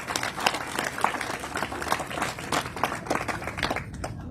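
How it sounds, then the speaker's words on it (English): A modest crowd claps at an overdose awareness community event. The applause is fairly sparse and uneven, with distinct individual claps at moderate distance, and it thins toward the end. "So please give them a round of applause."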